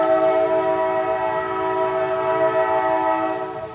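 A train's horn blares in one long, steady, loud blast as the train passes. The tone holds evenly and fades slightly at the end, and no one talks.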